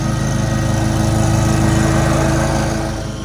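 A lawn mower engine runs loud and close, a steady pulsing drone that eases off slightly at the end.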